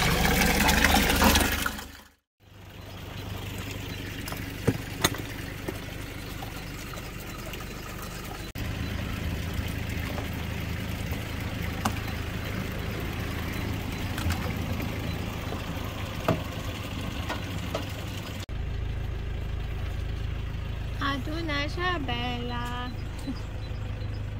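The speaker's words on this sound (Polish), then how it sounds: "są takie źródełka jak tutaj i po prostu można sobie fajną, źródlaną wodę nabrać" Spring water runs steadily from a roadside spring in Turkey as it is collected, a continuous close splashing flow beneath an engine-like rumble, with people talking and a brief louder cut early on.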